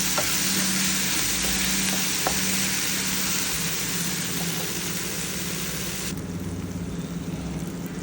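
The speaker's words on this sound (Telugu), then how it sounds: "మనకి టమాటా అనేది బాగా గుజ్జుగా మెత్తగా అయ్యేంత వరకు ఫ్రై చేసుకోవాలి" Tomatoes frying down in a pan until pulpy for a netthallu chikkudukaya curry, a continuous close sizzle with faint scraping stirs scattered through it and no talking.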